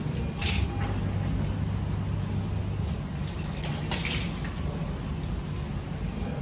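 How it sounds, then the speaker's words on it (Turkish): Hands are washed under a running tap before surgery in a hospital operating room, producing a continuous, loud, close rush of water with faint splashes and drips. "önce eller yıkanıyor"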